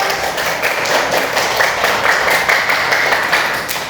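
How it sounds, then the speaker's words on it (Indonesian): A school class claps on the teacher's request, many hands giving a steady, fairly loud patter with some sharper rhythmic beats, and nobody speaking. "Beri tepuk tangan dulu."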